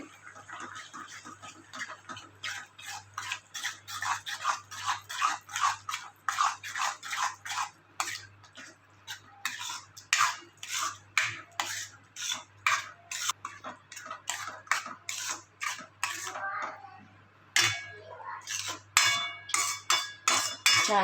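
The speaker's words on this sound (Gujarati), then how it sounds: "બધું સરસ મિક્સ કરી લઈએ" A spoon repeatedly tapping and scraping a pan while mixing crushed brinjal for a Kathiawadi dish, quick rhythmic clinks in bursts, close and clear, with a faint low hum beneath.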